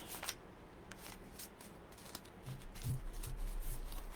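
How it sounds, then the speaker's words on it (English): Soft, faint rustling and riffling of oracle cards being shuffled by hand, continuous and quiet with a few light taps. "Shuffle these for a few minutes."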